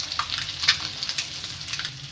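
Eggs dipped in batter frying in oil, a soft, steady sizzle with small crackling pops, close by and alone.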